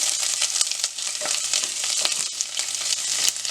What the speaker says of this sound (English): I have finely chopped the onion. I'm going to fry it a little bit.